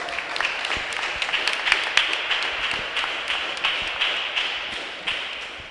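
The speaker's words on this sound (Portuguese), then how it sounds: "Aplauda o Senhor, você que está em casa." Church congregation applause at a Sunday family service, sharp individual claps in an irregular, moderately loud patter from a smallish group, with no talk over it.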